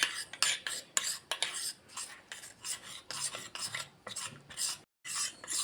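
A spoon rasps and scrapes quickly in a bowl of milk and custard powder, breaking up lumps in a rapid irregular rhythm of close, gritty strokes with a brief pause near the end.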